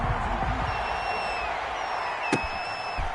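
Crowd noise fills an NFL stadium at an Atlanta Falcons versus Carolina Panthers game, a dense continuous roar with faint whistles and a sharp thump near the end.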